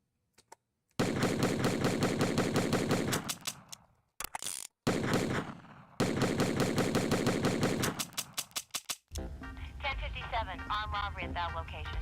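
Rapid electronic machine gun bursts from a Commodore 64 video game, loud chiptune rattles in several stretches broken by short silences, followed by synthesized game speech.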